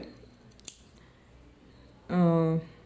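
Scissors snip through thread for a tassel with two or three quick, crisp cuts close by, followed by a short burst of a voice.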